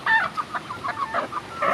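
A chicken clucks close by in a quick, choppy series of short calls across about two seconds.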